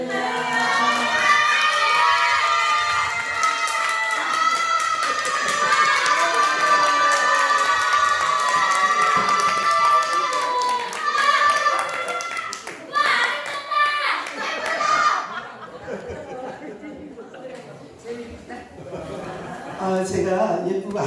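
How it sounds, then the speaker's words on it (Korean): A church revival-prayer congregation greets a pastor with loud, sustained applause and cheering, crowd noise dense throughout, thinning and dipping near the end. "박수로 맞이하시기 바랍니다"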